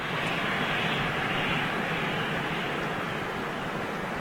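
Steady broadband roar of a jet airliner powered by Rolls-Royce Trent 1000 engines with scalloped exhaust cowls, at Madrid Barajas, sustained and fairly loud throughout without any talk.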